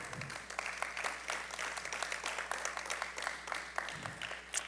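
A church congregation claps for the Lord after a sermon, a dense, steady patter of hands with a few louder claps standing out, held at an even level over several seconds.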